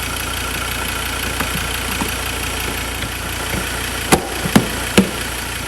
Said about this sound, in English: Engine's running really nicely.